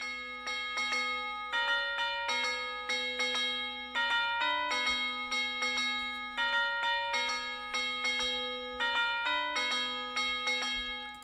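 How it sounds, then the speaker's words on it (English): A bright, bell-like melody for a Detroit-style beat made in FL Studio repeats in a steady rhythmic pattern, clear ringing tones struck one after another with short decays, loud and alone. "That's the bell pattern."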